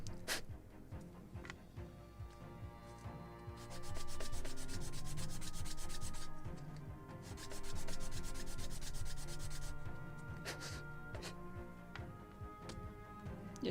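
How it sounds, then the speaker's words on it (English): Small wooden gun-carriage wheels for a 1776 gunboat Philadelphia model ship are rubbed against sandpaper in steady back-and-forth strokes. The gritty scraping is close and continuous, with two louder stretches of faster rubbing midway. "I want to sand them a little, more likely to polish them, so I will just do it on the"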